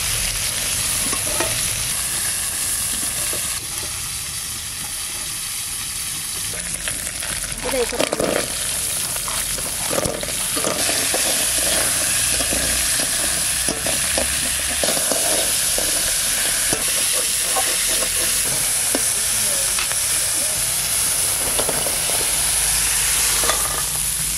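Dighi sea crabs sauté in a hot pan with a steady loud sizzle and hiss, broken by clattering spoon stirs throughout, while a person talks now and then.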